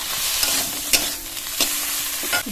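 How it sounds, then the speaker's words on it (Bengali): Spiced masala with salt, turmeric and tomato stir-fried on a low flame, a steady close sizzle with scraping spoon strokes and occasional clacks against the pan, no voices. "মশলাটা এবার 2-3 মিনিট কষিয়ে নেবো লো ফ্লেমে।"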